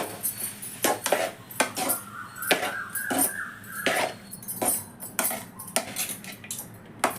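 A metal spoon scrapes and clinks against a pan as curry leaf rice is mixed, with repeated irregular knocks and scrapes close up and moderately loud.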